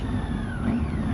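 Motorbikes going by on a steep road, a steady mid-pitched engine drone with a slight rising whine, close and continuous for about a second.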